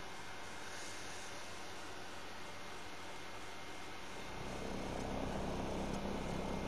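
Steady, loud aircraft engine drone from a plane in the video game Call of Duty: Modern Warfare Remastered, a continuous broadband roar that swells heavier and lower toward the end, with no voices.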